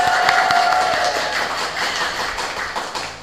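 Applause welcoming the deputy mayor of Blitar at a podcast recording, a dense burst of clapping from a small group, close and steady, tapering off near the end.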